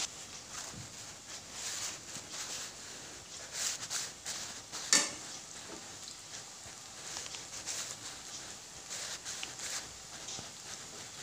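Battered cauliflower pieces deep-fry in hot oil in a kadhai, giving a soft, steady sizzle with scattered clinks and taps of utensils against the pan, quiet and close.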